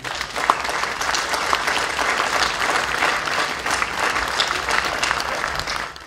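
A crowd claps loudly and steadily in honour of an archery association and a horse-riding yard at a Hungarian village event. The applause is dense and close, with individual claps popping out over six seconds before it tapers slightly.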